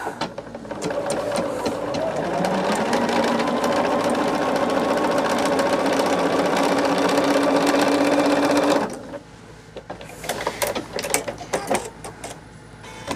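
Sewing machine stitching quilt sashing, a loud, close, steady mechanical whir for about nine seconds, then stopping and giving way to fabric handling and a few soft clicks.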